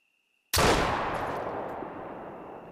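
A single King 470DB double rifle shot in theHunter: Call of the Wild, a sudden, very loud boom after a moment of near silence, followed by a long rolling echo that fades slowly.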